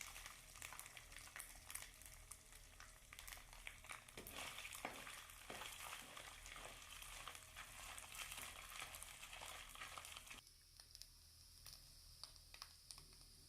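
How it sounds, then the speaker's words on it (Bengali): Chopped coconut fries lightly in a pan for a banana blossom chop, giving a steady close sizzle broken by scraping stirs until about ten seconds in, then settling into a quieter, even hiss. "নারকেল কুচিটাকে এবার আমি হালকা করে ভেজে নেব 2-3 মিনিট ধরে নাড়াচাড়া করে।"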